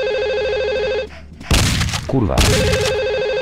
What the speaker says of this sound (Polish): Telefon ci dzwoni.